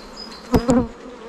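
Honeybees buzz at an open beehive during work on queen cells, a low steady hum with two brief louder swells as insects pass close.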